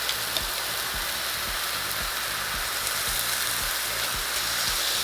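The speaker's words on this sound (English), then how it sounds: "Love that sizzle." Garlic paste and olive oil sizzling in a hot frying pan, a steady crackling hiss that holds through the whole stretch at close range with no talk over it.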